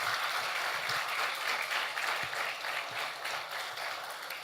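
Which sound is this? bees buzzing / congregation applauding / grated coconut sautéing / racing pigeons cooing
congregation applauding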